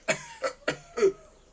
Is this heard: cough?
yes